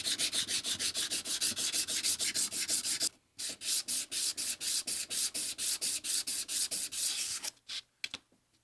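A rusty, warped Stanley spokeshave is ground in steady back-and-forth strokes, a rhythmic abrasive rasp repeating close and loud, with a brief pause partway through and a few final strokes trailing off.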